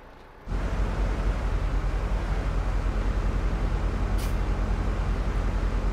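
Heavy truck engine labouring uphill on a steep mountain road of hairpin bends in Euro Truck Simulator 2, with the clutch partly slipped; a loud, steady, dense drone that holds unbroken after a brief quieter start.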